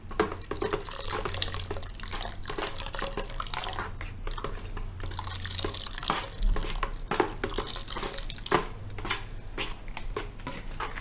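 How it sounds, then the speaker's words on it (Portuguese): A thick homemade OMO-style laundry soap mixture is stirred hard and continuously, giving a wet, sloshing, scraping churn that is close and steady and plays alone without talk. "Ficou bem grosso mesmo e eu tô mexendo bastante."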